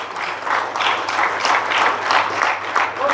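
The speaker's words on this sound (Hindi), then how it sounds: "तालियां जोरदार होनी चाहिए।" Loud, sustained audience applause fills a district sports officers' appointment letter ceremony in Ranchi, a steady dense wash of many hands clapping close by with no talk over it.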